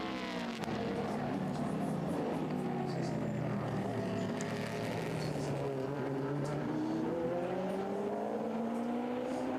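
Race cars roar past at the 2017 24 Hours of Le Mans, an Aston Martin, a Ferrari and Corvettes running nose to tail, with loud sustained engine notes sweeping up and down in pitch as they approach and pass.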